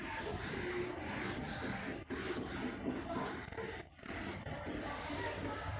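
Steady scrubbing of a duster rubbing writing off a classroom board, a continuous dry rasp with brief pauses, close and fairly quiet.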